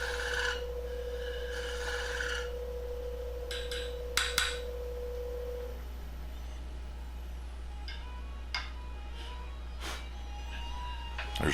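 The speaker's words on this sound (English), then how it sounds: "I'm just using it to cut a chamfer on the end of the shank" A V-shaped scraper cuts a chamfer on the end of a turned pipe shank, giving a steady rasping scrape with a held ringing tone that stops partway, then intermittent scratchy strokes and short clicks over a low constant hum.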